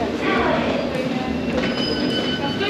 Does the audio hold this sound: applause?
no